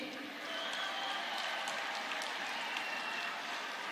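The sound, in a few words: audience applause at political meeting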